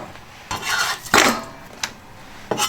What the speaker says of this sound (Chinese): 藕切成片儿